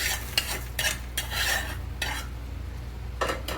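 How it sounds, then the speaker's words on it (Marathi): Roasted chickpeas are scraped and stirred out of a hot pan with a utensil, giving several separate gritty scraping strokes with brief pauses between them, close and clear, with no talking. "हे बघा आता हे फुटाणे भाजलेले आहेत. आता आपण हे काढून घेऊया."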